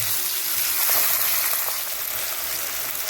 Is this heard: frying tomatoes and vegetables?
yes